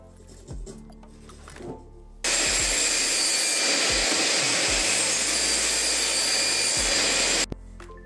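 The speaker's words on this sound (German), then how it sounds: "werden wir das Ding jetzt erstmal ungefähr auf Länge schneiden, damit das Ding ein bisschen handlicher ist" A wooden workpiece in a home workshop is cut to length with a power saw, a loud, steady buzzing roar running about five seconds after a few quiet knocks and handling sounds, then stopping abruptly.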